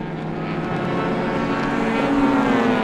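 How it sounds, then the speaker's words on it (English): A steady drone of four-cylinder front-wheel-drive touring car engines with a rising whine, loud and continuous throughout, racing on a circuit, with no voices. "Love hearing these 4-cylinder engines."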